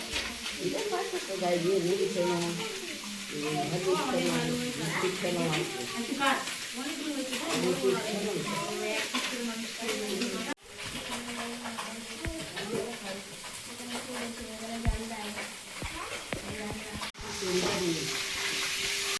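Fish fries in a pan with a continuous close sizzle and spatter running under a person's voice, with a couple of brief breaks and a sharp tap partway through.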